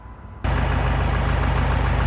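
A Ford Transit engine starts running after a brief quiet moment, then idles loudly and evenly close by, producing a steady broadband rumble with no voices over it.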